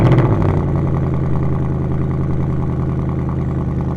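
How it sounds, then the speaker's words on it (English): A Ford Mustang GT's V8 settles into a cold-start idle, a loud, deep, even rumble after a brief louder burst at the start. "let's go ahead and get a cold start"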